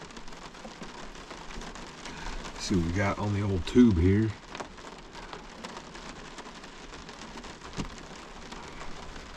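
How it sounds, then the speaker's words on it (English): Heavy rain pours outside a truck camper during stormy weather, a steady broadband wash that continues throughout beneath a man's close, brief talk. "It's dumping rain out there."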